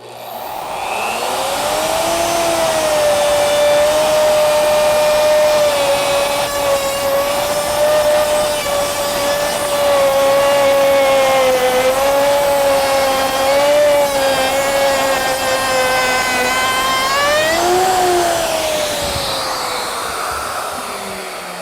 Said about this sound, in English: As I was running the router, you could actually hear a little bit of a high-pitched noise.